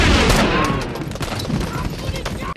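Battle gunfire from the 1998 war film Saving Private Ryan, dense overlapping rifle and machine-gun bursts with booming impacts, loud at first then easing into scattered shots, with voices talking over it.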